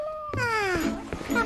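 A cartoon cat gives a single drawn-out meow that slides downward in pitch, followed by a couple of short soft sounds, loud and close.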